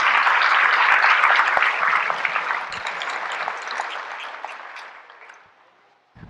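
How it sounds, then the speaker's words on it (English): Audience applause inside a mosque, a full burst of many hands clapping that holds strong at first, then thins and fades away to near silence near the end. "I want to applaud all of you for doing that"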